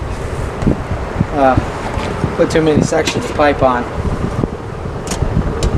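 Steady wind rushes and buffets the microphone outdoors in cold weather, around 5 degrees, while someone talks over it.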